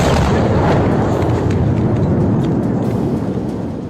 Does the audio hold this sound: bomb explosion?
yes